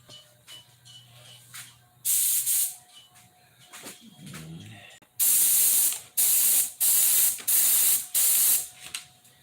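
Airbrush spraying white paint in a couple of coats over a dark line, heard as several loud hissing bursts of a second or so each, separated by short quiet pauses, with quieter mechanical handling sounds in between.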